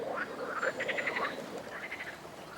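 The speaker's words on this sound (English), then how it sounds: "15 species of amphibians, like the moor frog" Moor frogs call in a chorus of soft, bubbling croaks from flooded spring meadows during spawning season, steady and moderately distant against a low background hiss.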